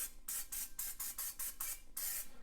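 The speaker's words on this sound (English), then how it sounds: "we're going to spray them with a little bit of olive oil" A can of olive oil sprays onto chicken pieces in a series of about eight quick, hissing bursts in a steady rhythm, close and fairly soft, with no talk.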